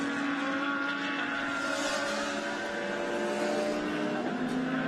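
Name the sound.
race cars including Porsche and BMW racing on circuit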